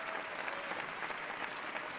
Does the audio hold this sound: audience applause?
yes